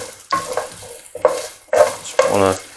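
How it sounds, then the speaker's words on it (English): Vegetables for roasted red pepper soup fry in a pot and are stirred in several distinct bursts, scraping strokes over a soft sizzle, close and fairly loud with no talking. "just give it a stir every now and then because we don't want it to burn"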